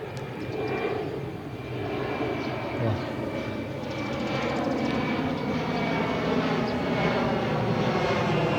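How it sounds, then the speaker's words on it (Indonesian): A fixed-wing airplane flies over near an airport, its steady engine roar filling the scene at moderate loudness and holding throughout without a break; faint voices can be heard underneath. "Baru mencet tag ada suara pesawat."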